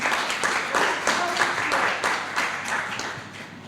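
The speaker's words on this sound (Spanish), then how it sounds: "Bien, aplausos." An audience at a book presentation claps steadily for several seconds, a dense, even applause that fills the room without voices over it.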